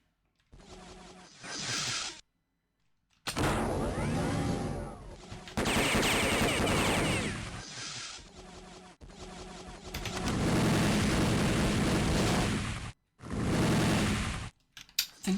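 Bursts of gunfire from the DOS shooter Rex Blade: The Apocalypse, loud and dense, coming in several long volleys separated by short silences, with no talking.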